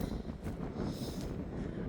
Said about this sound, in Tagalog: Sobrang hangin.